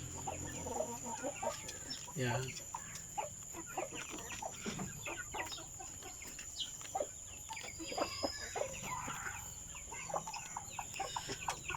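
Broiler chickens, 48 days old, cluck and squawk repeatedly in a busy farmyard, with a steady high hiss behind them and a brief word spoken once.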